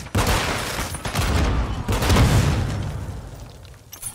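Semtex grenade explosions and gunfire in Call of Duty: Modern Warfare 2 multiplayer, a sustained loud barrage of booms and rapid shots filling the whole stretch without letup.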